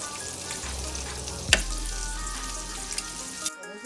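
Bacon frying in a pan while cooking breakfast alongside French toast and sausage, a steady close crackling sizzle with a low hum underneath and a couple of sharp clinks, cutting off abruptly at the end.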